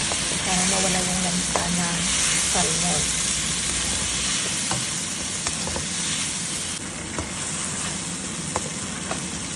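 Onion, garlic and tomato sauté in a pan, giving a continuous loud sizzle broken by occasional spatula clinks and scraping strokes.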